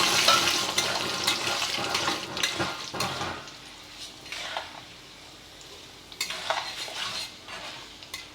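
Mustard seeds, cumin, urad dal, chana dal and cashews fry in hot oil for idli upma: a loud crackling sizzle at first that eases, with spoon stirs and clinks against the pan, close by.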